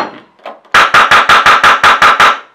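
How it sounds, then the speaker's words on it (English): A Polarstar F1 airsoft gun being test-fired with the air hooked up: nine loud, sharp shots in a fast, even string, preceded by a few faint handling knocks. "So let's go ahead and get our test fires in with everything together."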